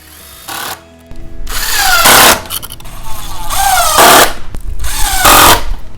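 Cordless drill driving self-drilling Spax screws into a board while installing a Little Free Library, with several loud bursts of whirring motor, each lasting about a second, separated by brief pauses.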